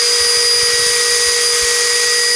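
DeWalt 20V compact drill motor spinning freely: a steady, smooth high-pitched electric whine with even tonal hum, held without pause and heard alone.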